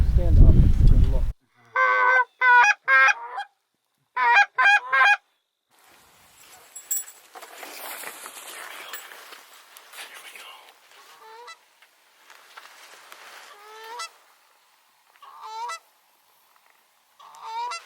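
Canada geese honking during a waterfowl hunt, several loud bursts of nasal honks in quick groups, with quieter distant calls and a faint voice between them outdoors.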